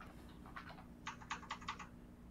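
Quiet clicking of a new computer keyboard being typed on, a short burst of keystrokes followed by a quicker, crisper run of taps, close and alone with no talk.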